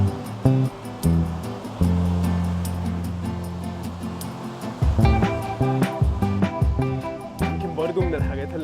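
Sea waves surge and break on a North Coast beach resort in Egypt under a red-flag warning, a steady loud wash rising into rougher crashing surf toward the end.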